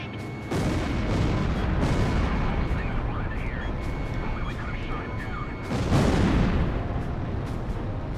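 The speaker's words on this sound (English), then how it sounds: "Missile launched." Missile launch in the video game Ace Combat Zero: The Belkan War, a loud whooshing roar over ongoing jet rumble, followed by a second strong surge, with a person talking underneath.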